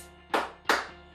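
Two sharp, loud hand claps land about a third of a second apart in a dance class, each ringing briefly in the room before fading.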